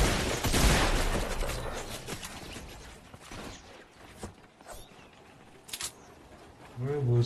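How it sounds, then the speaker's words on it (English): Video game gunfire crackles in a rapid burst at the start, then gives way to scattered mechanical clicks and short sharp reports, with a voice talking over parts of it. "Did somebody try shooting me back there?"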